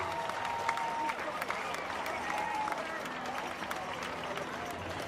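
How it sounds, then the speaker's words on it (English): Street crowd at a stroll event applauding protest marchers for civil rights as they pass, a dense wash of clapping and crowd noise under a loudspeaker-like voice that talks throughout. "Let's give them a big round of applause."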